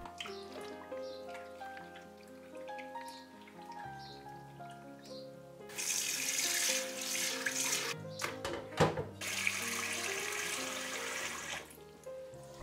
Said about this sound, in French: j'égoutte ensuite directement mon seitan dans l'évier